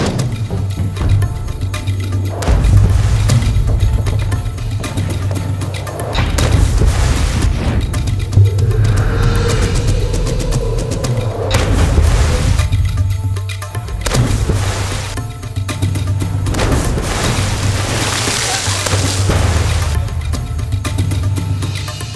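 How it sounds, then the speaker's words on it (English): Loud, continuous underwater rumble from cannonball-style bombing dives off a diving board, with repeated deep booms and heavy churning surges of water and bubbles across the whole stretch, no voices. "It sounds like a bomb going off underwater."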